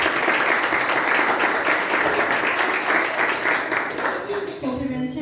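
A church congregation at a Sunday service applauds, dense steady clapping filling the room for about four seconds before fading as a voice begins speaking.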